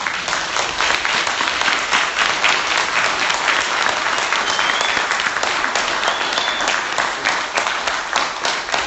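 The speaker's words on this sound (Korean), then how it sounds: "다시 한번 감사하는 마음으로 힘내라고 또 우리 박수 한번." A church congregation in New York breaks into sustained applause: even, steady clapping from many hands lasting about nine seconds, with no talk over it.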